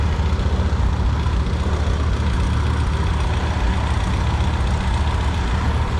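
A 1970 M670 Super diesel tractor engine runs steadily with a deep, constant low rumble and even, unchanging loudness. No speech is heard.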